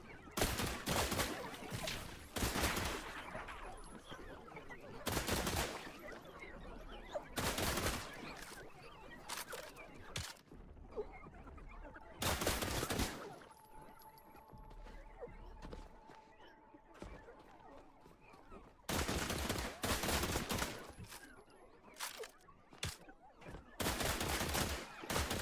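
Rifle gunfire in a video game comes in loud bursts of rapid shots separated by quieter gaps with faint background sounds and a soft tone.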